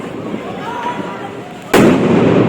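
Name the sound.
Diwali firecrackers, spinning charki bombs exploding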